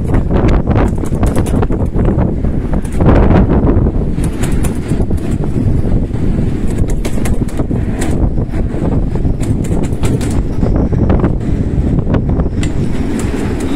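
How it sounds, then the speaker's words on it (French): Strong gusts of wind batter a boat moored at Lanzarote in the Canary Islands, a loud, continuous buffeting roar with rattling and knocking surges throughout, close to the microphone and without any talk. "il y a des rafales bien plus fortes"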